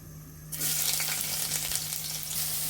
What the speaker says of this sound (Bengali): আমরা একে একে দারচিনিগুলি দিয়ে দিব এবং পেঁয়াজ রসুন আদা কাঁচা লঙ্কা সবই একে একে দিয়ে দিব